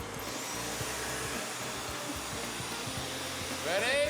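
A loud, steady robot vacuum motor roar runs throughout, with rattling clicks of billiard balls being sucked up and a rising whine near the end.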